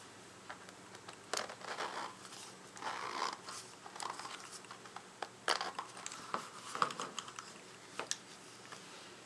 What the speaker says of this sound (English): There's a little zipper.